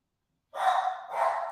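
A dog gives two short, close barks in quick succession after a moment of silence.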